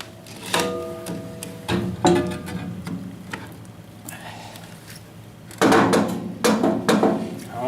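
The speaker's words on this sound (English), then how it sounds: "give her lots of grease in" A hand grease gun works grease into the fittings of a sweeper during maintenance, giving a few sharp clicks and clacks spaced seconds apart, with a burst of busier mechanical clatter near the end.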